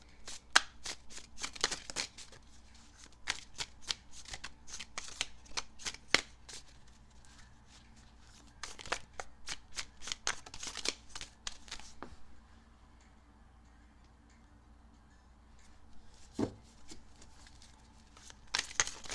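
Tarot cards being shuffled by hand in bursts of quick riffling flicks, close and crisp, with brief pauses between runs and no talking over them.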